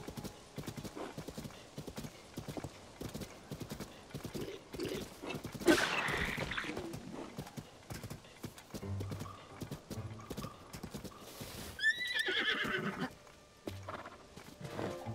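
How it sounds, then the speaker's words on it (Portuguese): Horse hooves clip-clop steadily in The Legend of Zelda: Tears of the Kingdom, with a couple of whinnies breaking through and game sounds and music mixed in. "O nome do cavalo é Samuel?"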